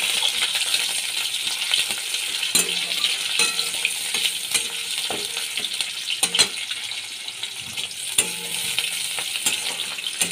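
Chopped onion hitting hot oil with whole cumin and black cumin seeds, cooked for a Bengali cauliflower, potato and egg dish. It gives a steady, bright sizzle, with occasional clinks and scrapes of a stirring spoon against the pan.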